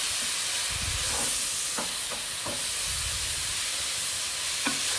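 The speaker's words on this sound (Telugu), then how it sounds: "ఇది మొత్తం కలిపేస్తున్నాం" Radish curry frying in a pan with salted green chillies and a little oil, stirred through: a steady close sizzle with scattered scrapes and clacks from the stirring.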